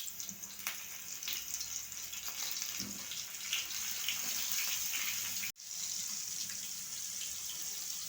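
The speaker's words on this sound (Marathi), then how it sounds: "आता हे तेलामध्ये एक एक असं मासं तळून घेऊया" Bangda mackerel pieces fry one by one in hot oil, a continuous soft hissing sizzle that cuts out briefly and then resumes.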